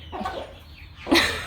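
A short clucking call from an egg-laying hen on a poultry farm, close by, ending in a louder squawk-like burst.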